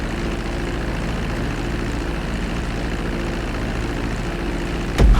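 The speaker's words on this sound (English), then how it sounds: "Now let's get the plane off the runway." A propeller airplane engine drones steadily and loudly while the plane taxis on a runway in GTA V, a constant low rumble that ends with a sudden thump at the close.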